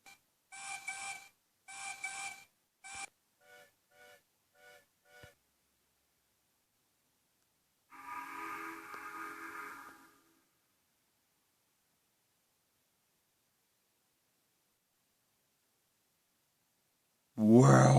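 Three steam engine whistles sound at night at a station where a mail train stands: short harmonic blasts in a quick series, then a longer sustained whistle, with a loud burst at the very end after silence.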